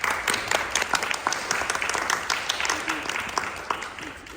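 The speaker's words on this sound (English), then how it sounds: "give a round of applause for Aviram Reichert." Audience applause welcoming a pianist at a piano masterclass: a modest group clapping steadily, with distinct individual claps audible in a fairly close, roomy space, fading slightly at the end.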